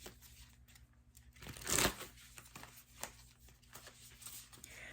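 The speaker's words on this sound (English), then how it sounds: "So I'm doing a couple of riffles, and then I'll try an overhand." A thick-cardstock oracle card deck is riffle shuffled, giving one quick, sharp fluttering burst of cards in the middle, with faint card handling and rustling before and after in a quiet room.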